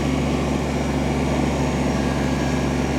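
A Kubota BX compact tractor engine revved to high RPM in low-range four-wheel drive, droning steadily and loudly up close with a constant buzzing hum.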